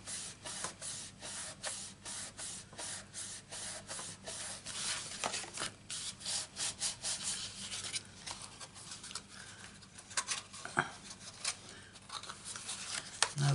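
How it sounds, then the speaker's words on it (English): Glued card for a handbag-shaped tissue box is rubbed down by hand, giving soft, close scraping strokes in a quick repeated rhythm with no talking. "I'm butting it up right up to the score line and then rubbing it down."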